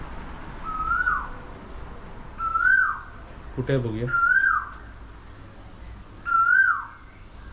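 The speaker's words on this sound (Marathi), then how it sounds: "दिसलं का कोकिळ आहे कोकिळ" An Asian koel calls four times in a repeated rising whistle, evenly spaced, with a brief voice speaking over the middle.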